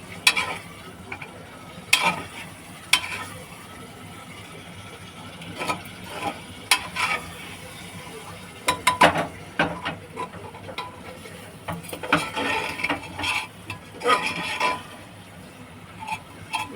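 Drumstick moringa curry frying in a pan, a steady low sizzle broken by irregular scraping and clinking as a spoon stirs it, close and moderately loud.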